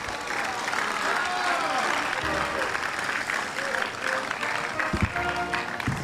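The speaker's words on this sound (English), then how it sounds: "A round of applause for Samuel Clemens" Audience applause fills a city council meeting chamber, a steady wash of many hands clapping at moderate loudness throughout, with a few voices mixed in.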